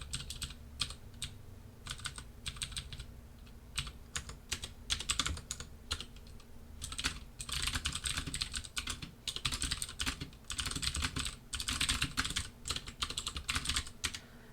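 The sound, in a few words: typing on computer keyboard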